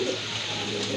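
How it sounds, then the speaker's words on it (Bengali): A pair of black-lace pigeons coo briefly, with a low, soft, close warbling call and no talking. "আর ডাক দেখেন কতটা সুন্দর ডাকে কবুতরগুলো"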